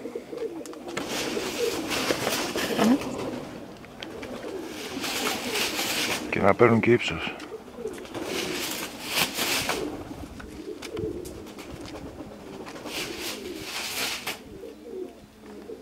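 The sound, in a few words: racing pigeons flying and scattering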